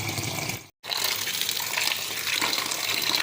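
Steady rushing tap water splashes continuously over cauliflower being rinsed, with a brief cut in the flow near the start before it resumes, close and fairly loud.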